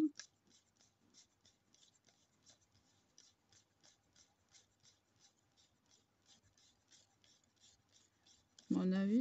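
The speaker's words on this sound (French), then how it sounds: "On frotte énergiquement." A nail being rubbed vigorously to work silver powder into rose-gold nail polish, a faint, quick scratchy rasping that repeats in steady strokes and is quiet and close.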